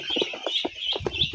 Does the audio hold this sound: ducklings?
yes